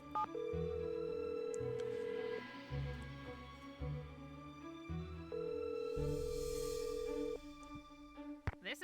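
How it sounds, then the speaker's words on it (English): Telephone dialing tones in a Nancy Drew video game come as a row of steady electronic beeps, followed by long, flat ringback tones that repeat at an even pace. "I have to actually dial this"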